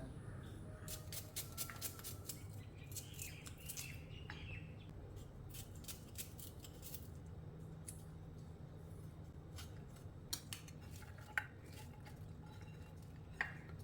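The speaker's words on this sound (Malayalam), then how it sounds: "ഇനി ഈ ഉള്ളിയൊക്കെ ഒന്ന് അരിഞ്ഞെടുക്കാം" Small onions being chopped with a knife for fried onion rice, a run of quick, crisp blade taps on a cutting board in irregular bursts over a steady low background hum, fairly faint and with no talking.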